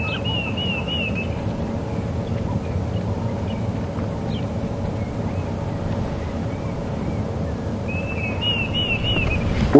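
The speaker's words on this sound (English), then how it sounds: "Oh, I've just heard a Deirdre's cuckoo." A Diederik cuckoo calls on a safari game drive at Djuma Game Reserve, with a short rising whistled phrase near the start and again near the end, fairly faint over steady wind and vehicle rumble.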